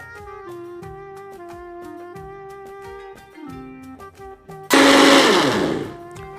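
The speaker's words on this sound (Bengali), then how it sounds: "আমি এখন এটা ব্লেন্ড করব।" An electric blender roars to life near the end, blending mango lassi in a loud, close whir that follows a stretch of music.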